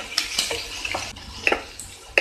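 Tomato, onion, cashews, almonds, ginger and garlic sauté in a pan for a broccoli masala gravy, a low sizzle punctuated by sharp clinks and scrapes of a spoon against the pan at irregular intervals.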